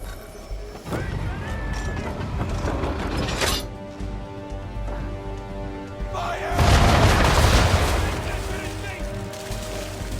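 Ship cannons fire in Assassin's Creed III naval combat: heavy booms and crashing impacts in bursts, with the loudest, broadest blast late in the sequence, set against game music and ambient noise.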